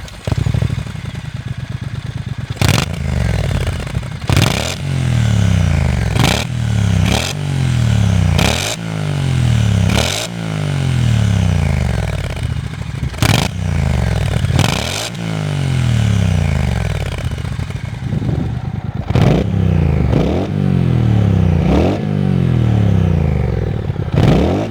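A Brixton Cromwell 1200 motorcycle with a big torquey twin engine revs repeatedly, loud and close, each throttle blip rising and falling in a steady rhythm over a rumbling idle, with no talk.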